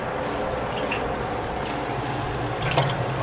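Tap water runs steadily as raw chicken meat is washed for a homemade fried chicken zinger sandwich, a close, even wash of splashing that grows briefly busier with drips near the end.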